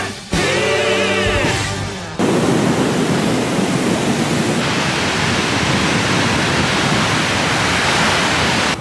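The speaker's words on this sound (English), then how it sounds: "Those waves are insane." Big waves crash on a Lake Michigan beach at Grand Haven, a loud, broad, continuous roar of surf and wind with no talking. A short burst of another sound comes first.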